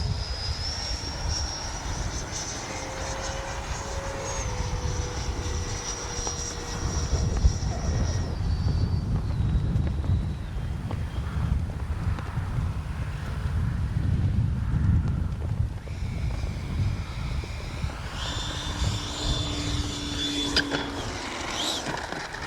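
A Freewing Mirage RC jet on SMC battery packs flying overhead, a sustained electric ducted-fan whine that rises and falls in pitch as it passes, heard at a moderate distance with outdoor background noise.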